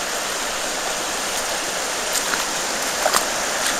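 Creek water rushing over rocks on Overflow Creek, the west fork of the Chattooga River, a steady, loud, close broadband flow with a few small splashes near the end.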